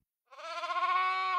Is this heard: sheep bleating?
yes